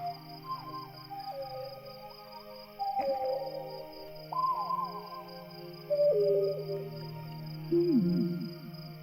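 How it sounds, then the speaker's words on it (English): An owl in the game Proteus hoots in repeated falling calls, about five spaced phrases, over a soft sustained drone and faint ambient tones. "There's the owl that was making that noise just a second ago."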